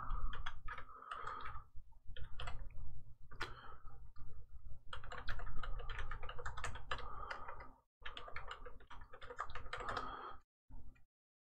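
Rapid keystrokes on a computer keyboard enter an IP address during Windows Server 2016 network setup, a close, steady run of clicks in bursts with short pauses and a final few isolated taps.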